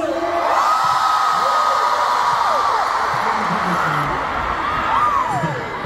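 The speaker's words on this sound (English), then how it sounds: "so let's all make some noise for Pikachu!" A concert crowd at a Fate Plus tour show in New York cheers and screams as a steady, loud roar. High whoops rise and fall above the noise throughout.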